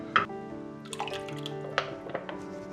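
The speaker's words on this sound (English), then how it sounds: "I'm gonna add some bone broth." Bone broth pours into a pho pot, heard as close, scattered liquid drips and splashes over a faint steady background tone.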